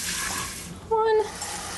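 Water poured into a pressure cooker holding a cup of mixed grains, a soft splashing pour with a brief ringing tone partway through, heard close.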